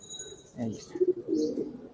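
Pigeons kept by a breeder give a couple of short, low coos close by, with a brief chirp and faint background voices.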